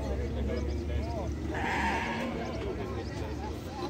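Sheep bleating amid the crowd at a livestock fair in Araripina, Brazil, one clear bleat standing out midway over steady background chatter and voices.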